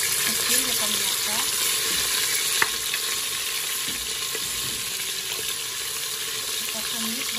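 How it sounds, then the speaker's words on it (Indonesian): A steady, dense sizzle of spices and chopped ingredients sautéing for Arab fried rice, loud and continuous with a single faint tap of a utensil. "Kita tumis bagiannya sampai berubah warna dan mewangi."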